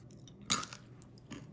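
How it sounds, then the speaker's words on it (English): Oven-roasted chickpeas crunched between the teeth, one loud sharp crunch followed by a softer chewing crackle, close and with no talking. "Did you hear that crunch?"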